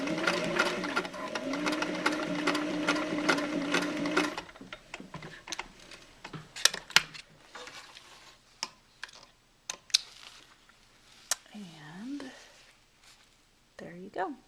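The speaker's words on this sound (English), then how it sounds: "we're going to back stitch, just kind of go back and forth" A sewing machine back-stitching elastic onto a cloth diaper runs in a fast, close, whirring burst for about four seconds, then falls to scattered clicks, taps and fabric handling with a voice heard faintly.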